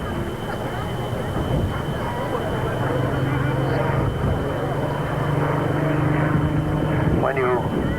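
A Fairey Fulmar two-seat naval fighter flies past at a 1992 Humberside air show, its piston engine droning steadily and swelling toward the end, under continuous commentary over a loudspeaker.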